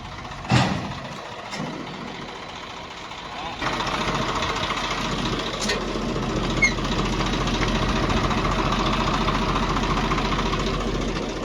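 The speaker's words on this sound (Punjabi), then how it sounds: "ਪਰੇ ਹੋ ਜਾਓ ਗੱਡੀ ਆਉਂਦੀ ਆ" A tractor pulling a trolley rumbles nearby, its engine chugging low and steady and growing heavier as it approaches, with a few scattered bumps early on.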